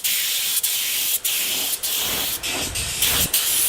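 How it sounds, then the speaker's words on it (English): Steady loud hiss of a spray gun applying finish to spotted gum and jarrah panels, broken by several brief pauses where the spray stops and restarts. "And spraying them up now."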